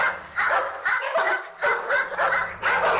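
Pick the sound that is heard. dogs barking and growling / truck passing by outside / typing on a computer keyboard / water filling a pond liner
dogs barking and growling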